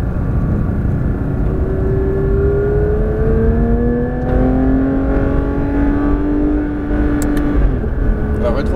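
A Porsche 992 GT3 RS lapping a race circuit at Fontenay-le-Comte, its engine note loud and close, rising and falling in pitch as it revs through the gears, with a shift near the end.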